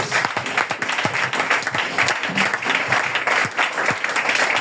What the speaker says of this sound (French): Est-ce que tu peux acclamer bien le Seigneur Jésus-Christ?